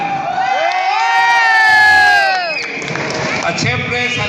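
A large crowd cheers and shouts loudly in a packed sports complex at a family gathering. A swelling roar peaks, then gives way to more scattered voices and shouts.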